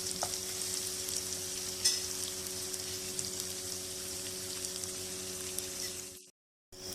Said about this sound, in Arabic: حطينا فيهم البصل اللي احنا مقطعينه، هنسيبه يتقلب تقلبتين لغايه اما يدبل بس شويه